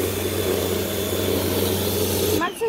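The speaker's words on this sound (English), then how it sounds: "I'm doing vacuum cleaning right now" A steady droning motor with a low constant hum runs close by, then cuts off abruptly near the end.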